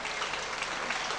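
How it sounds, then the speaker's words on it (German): Audience applause at a 1991 German-language show evening with a yodeling headliner, a dense, steady roar of many hands clapping at once, sustained and fairly close without pause. "Und einen kräftigen Applaus auch an Jürgen König"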